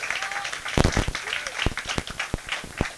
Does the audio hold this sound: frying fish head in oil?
no